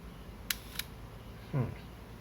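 A Canon QL rangefinder film camera shutter is cocked and fired, giving two sharp mechanical clicks close to the mic, followed by a short low mechanical rasp.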